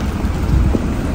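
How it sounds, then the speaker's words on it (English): Steady, loud rain in Switzerland hisses continuously with a low rumble underneath, no voices heard. "it's raining here also"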